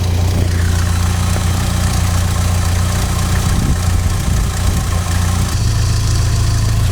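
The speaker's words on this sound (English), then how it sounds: "Eventually the engine should settle to a nice steady idle." A 16V Mk2 Volkswagen Golf GTI engine idles with a loud, steady low rumble that holds an even pace throughout, with no voices.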